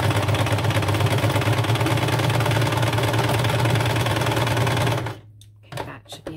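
A home sewing machine stitches a small zigzag on a needle book craft project, a steady close mechanical whirring hum for about five seconds that then stops, leaving quiet room noise and faint handling.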